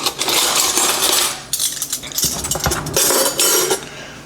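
Metal spoons clink and rattle against dishes while vegetable soup is being prepared, a steady run of bright metallic chinks with brief pauses, close and fairly loud, with no talking.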